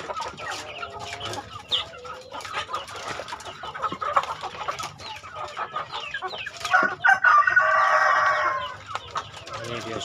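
Chickens cluck and squawk steadily nearby while eating feed, with a rooster crow rising near the end, amid busy farmyard bird noise.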